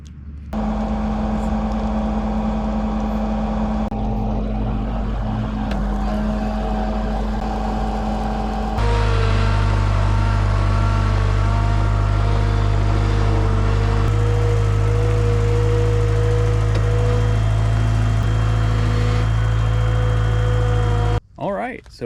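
Heavy auction machine's engine running at a low, steady idle, a deep droning rumble with a constant hum that shifts pitch and level partway through, close and loud, with a person talking over it.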